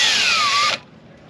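Power drill boring through a part of a diesel hydronic water and cabin heater, a loud close whine with falling pitch that cuts off abruptly, followed by quiet room tone.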